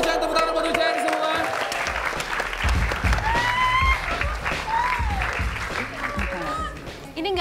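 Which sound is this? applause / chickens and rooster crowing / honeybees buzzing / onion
applause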